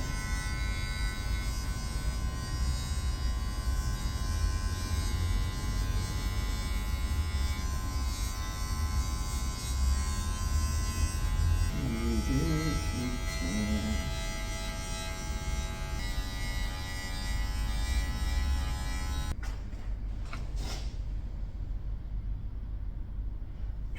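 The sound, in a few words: electric hair clippers blending a skin fade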